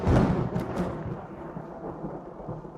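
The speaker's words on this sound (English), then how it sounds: "the lightning says something to the thunder, and the thunder answers back" Stage thunder during a theatre production of The Sound of Music: a loud rumbling crack that gradually rolls and fades away, with no voices over it.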